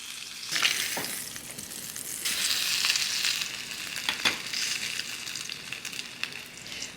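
Steak sizzles on a barbecue grill over direct heat, a loud, steady hiss that swells and eases, broken by a few sharp pops and clicks from close by, with no one speaking.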